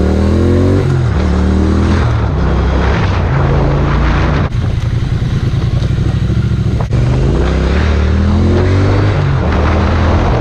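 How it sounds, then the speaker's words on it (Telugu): A Triumph Street 900 motorcycle engine drones steadily while riding, its low harmonic tone rising and falling with throttle changes, close and loud with heavy wind rush and no talk. "సో గైస్ నేను ఇప్పుడు ట్రయంఫ్ ఫ్రీట్ 900 రైడ్ చేస్తున్నా."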